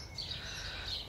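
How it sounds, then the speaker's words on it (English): Faint birdsong chirps high above a low outdoor rumble at night, brief and distant, with no one speaking. "And you can hear the birds singing."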